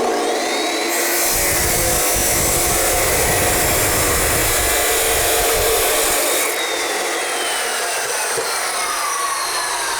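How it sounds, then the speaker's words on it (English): A metal chop saw slices through several clamped metal studs at once against a stop block during basement framing, a loud, steady, close grinding roar that runs unbroken for about ten seconds with no talking. "You see, that's a lot quicker than cutting them all by hand with tin snips."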